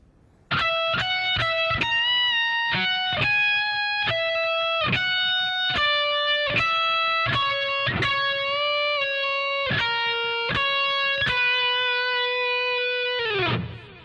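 A distorted bass guitar plays a melodic phrase of quick picked notes, ending on a long sustained note that cuts off abruptly.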